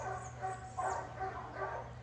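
A Rottweiler barks in short bursts during a training session, several sharp woofs spaced at irregular intervals over faint background noise, fairly quiet and distant.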